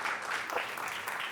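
A conference audience applauding a presenter, a brief steady patter of clapping from many hands, moderately loud throughout.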